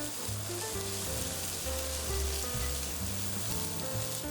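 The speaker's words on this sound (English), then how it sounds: "on medium-high heat, add some oil, then add the meat" Meat and diced yellow onion fry in oil over medium-high heat, giving a steady close sizzle with low scraping and stirring underneath, and no talking.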